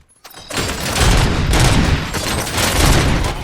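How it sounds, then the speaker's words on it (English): Sustained burst of gunfire in the Robocop: Rogue City video game, a dense, loud fusillade of rapid shots that starts abruptly after a brief silence and continues throughout. "Gunshots? What's going on?"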